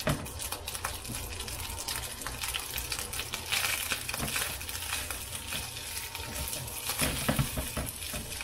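Leftover fajita steak and vegetables sizzling in a pan, a steady crackling fry with scattered clinks and stirring scrapes, close and continuous with no talking.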